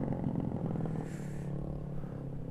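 A motorcycle fitted with a racing exhaust drones and revs steadily on a night ride in Indonesia, close and continuous with a throaty low rumble, no talking.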